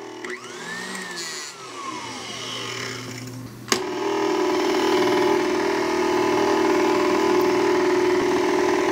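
An electric hand mixer runs on its lowest speed, mixing cream and egg yolks for buns; a steady motor whir with a brief clatter partway through, then a fuller, louder drone.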